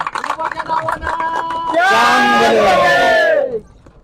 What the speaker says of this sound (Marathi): जरा सर्वांनी यांच्यासाठी एकदा जोरदार टाळ्या वाजवा